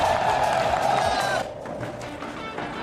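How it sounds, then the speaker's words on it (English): A hyped crowd roars and cheers at an esports match involving team H2K, a dense, loud wash of voices that softens slightly after the first second and a half. "the crowd is absolutely hyped for a big day"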